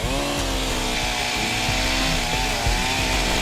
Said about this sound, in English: we're going to have to chop this tree out of the way